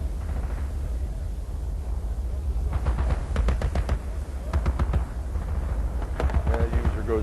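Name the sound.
gunfire sound effect in virtual reality simulation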